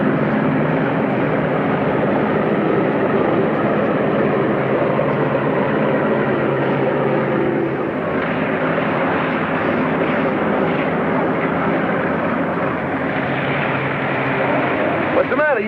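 An airplane taxiing toward a parking area after landing, its engines giving a loud, steady, unbroken roar that fills the whole stretch with little change in level.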